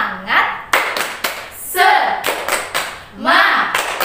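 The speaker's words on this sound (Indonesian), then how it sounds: "Tepuk semangat." A class of pupils claps in unison in a rhythmic spirit-clap pattern, sharp grouped hand claps in a repeating beat, loud and close, mixed with children's chanting voices.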